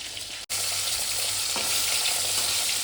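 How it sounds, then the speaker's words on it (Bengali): Bhola fish frying in hot oil in a pan, a steady close sizzling hiss throughout, broken by one brief dropout near the start. "আমি একটা একটা করে ভালো করে ভেজে নেবো।"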